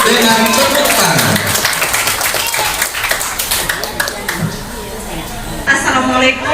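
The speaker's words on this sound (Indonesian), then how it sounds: "Kita sambut dengan tepuk tangan" Applause from a school gathering of teachers, greeting a teacher's singing performance during a study visit event, with dense clapping throughout and voices mixed in, briefly swelling near the end.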